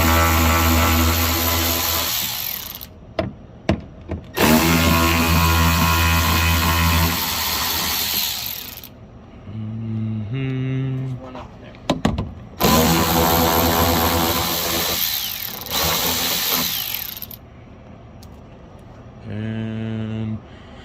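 Power drill with a 5.5 mm bit backing out bolts around the headlight area of a 2019 Ford F-150, loud whirring bursts of several seconds each, separated by quieter pauses with short lower-pitched motor spins.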